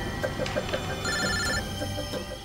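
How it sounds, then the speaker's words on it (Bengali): A telephone rings in a Bengali-dubbed CID crime drama episode, a repeated electronic ring tone pulsing steadily at moderate loudness. "বসের ফোন তোরা খেল"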